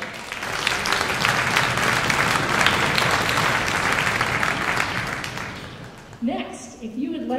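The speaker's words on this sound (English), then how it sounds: "Give yourself a round of applause," Parents in a junior high school orchestra spring concert audience give a long, steady round of applause that fills the room, tapering near the end as a voice starts talking over it.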